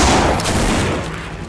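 Gunfire in the zombie video game No More Room in Hell: a loud, dense burst of rapid shots in a continuous volley that fades slightly toward the end, close and dominant.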